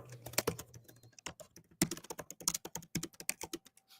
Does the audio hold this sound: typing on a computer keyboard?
yes